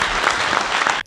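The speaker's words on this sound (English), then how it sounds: "Let's give him a hand of applause." Audience applause at a pavement preservation conference presentation, a loud dense burst of clapping from a room of people that stops abruptly after about a second.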